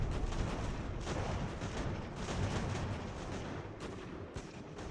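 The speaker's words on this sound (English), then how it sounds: "The cannon's what I'm worried about. They're going to cause us problems." Dense, continuous battlefield cannon and gunfire from the video game Ultimate General: American Revolution during an assault on a fort, with overlapping booms and crackling volleys and no clear pauses.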